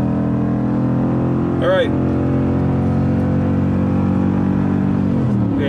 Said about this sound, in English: this is a quiet truck, so you don't hear all the noise you do in some trucks, even though this is a V8 and has that V8 rumble